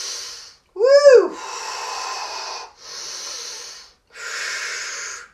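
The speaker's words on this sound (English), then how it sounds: "Take some deep breaths" Deep, audible breathing during a seated chair yoga stretch: several long, close breaths in and out with airy hiss, one sharp vocal exhale near the start, and brief pauses between them.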